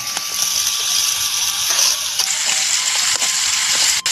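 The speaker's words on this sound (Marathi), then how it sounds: "मिरची फडकून घेते." Green chilies, added just after garlic, sizzle and spit as they fry in a pan for pithla over a wood-fired stove, a steady close hiss with a few sharp crackles.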